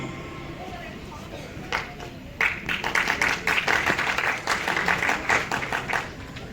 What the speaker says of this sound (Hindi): बहुत जोरदार तालियों से स्वागत करें लखन सोनी का।